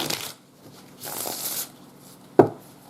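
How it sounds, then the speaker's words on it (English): Playing cards riffled in a few quick bursts: a short flutter at the start, a longer whirring riffle in the middle, then a sharp snap as the deck is squared, all close and fairly quiet with no talk. "One more good shuffle."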